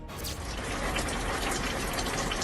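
Water pours steadily from a ceiling lamp fixture, a continuous loud gushing splash that stays even from start to finish, with no voices.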